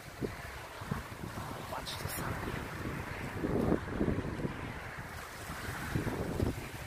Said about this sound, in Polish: Jest moc, jest wiatr, są palmy,